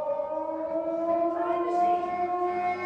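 A siren wails steadily for a school time-machine activity, a sustained tonal whine with a slight rise in pitch, moderately loud and alone without speech.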